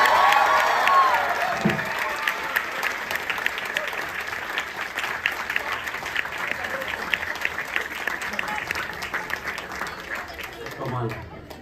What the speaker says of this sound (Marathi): सगळ्या टाळ्या आहेत ना, या सगळ्या माझ्या आजोबांसाठी.